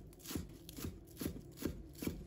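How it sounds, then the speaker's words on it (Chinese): A kitchen knife chopping spring onion leaves into small pieces on a board, about five crisp, evenly spaced thuds, close and fairly quiet, with no voices. "葱叶切成葱花。"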